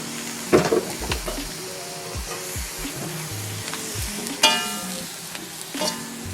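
Vegetables fry in a pan as soy sauce is added, giving a steady close sizzle under clanks and scrapes of stirring, with one louder hissing burst partway through and no talking.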